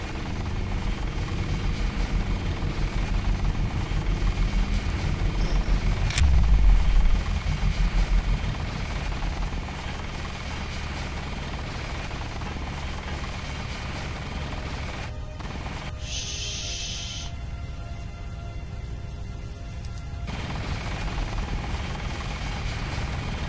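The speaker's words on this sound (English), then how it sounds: "There's a helicopter." A helicopter in the video game Deus Ex keeps up a continuous loud rotor drone, close and steady, with a brief sharp crack early on and a short higher whine partway through.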